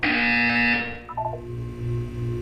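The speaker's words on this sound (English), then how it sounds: "You will hear a buzzer." A Portal 2 buzzer sounds loud and harsh as a bright electronic tone, then gives way to a few lower beeps and a steady humming drone.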